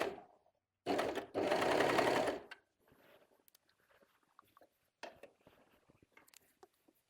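A serger sewing machine stitches fabric edges for a cloned t-shirt pattern. It makes two short, loud, rapid mechanical runs close to the mic, followed by quieter handling and fiddling noises.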